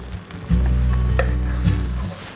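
Ghee goes into hot mutton achari in a pan and gives a short, close sizzle over a strong low hum that starts abruptly and fades out after about a second and a half.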